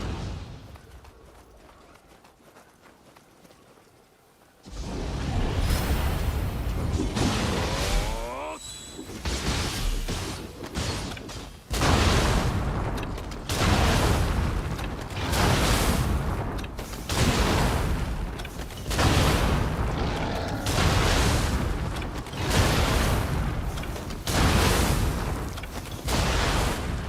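Repeated heavy cannon blasts in the action game Nioh 2, booming one after another at a steady rhythm after a quiet start, loud and close with whooshing tails.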